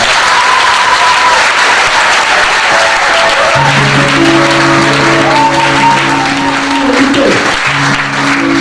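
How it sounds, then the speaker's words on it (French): A church congregation bursts into loud, sustained applause that fills the whole span, with cheering and scattered voices mixed in and a steady tone held underneath. "Est-ce qu'on peut acclamer le Seigneur?"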